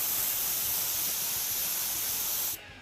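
Close, steady spray hiss as a tuck-and-roll upholstered seat for a Model A coupe gets an even coated pass, running loud and continuous before cutting off abruptly near the end.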